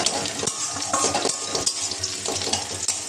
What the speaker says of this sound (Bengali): এবার কুচিয়ে রাখা পেঁয়াজটা আমি দিয়ে দিচ্ছি।